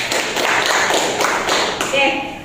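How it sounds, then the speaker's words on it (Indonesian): Students in a classroom clap together during a biology lesson, a dense burst of applause that holds steady close by for a couple of seconds before tapering off. "Tepuk tangan."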